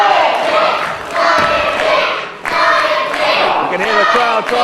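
A wrestling crowd cheers and roars at a live singles match, the loud, continuous swell of voices rising and falling in waves with a few sharp thumps, under a commentator's talk.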